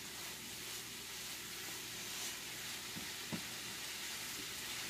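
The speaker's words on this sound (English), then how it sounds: "You can hear it sizzling." Vegetarian chili ingredients sizzle in a pan on medium-high heat, a soft steady crackling hiss with a couple of faint clinks, no voices.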